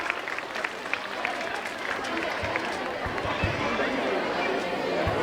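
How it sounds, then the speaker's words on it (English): An audience at an annual function applauds, producing steady, dense clapping that builds slightly and continues for several seconds, with some crowd chatter mixed underneath. "Please a round of applause for Sneha."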